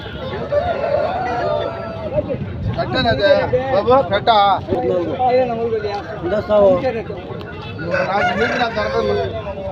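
A Kakidega rooster crows at a busy livestock market in Rayachoti, Kadapa district, amid constant crowd chatter and clucking fowl nearby, its call rising over the general din.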